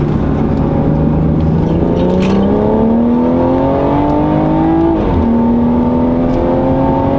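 A loud tuned BMW B58 engine drones and climbs steadily in pitch while accelerating, briefly dips as it shifts, then pulls again, heard close from inside the car.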